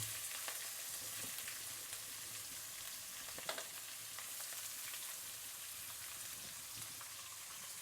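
Onions hiss and crackle in hot oil for tomato rice, a continuous close sizzle with scattered sharp pops and spits.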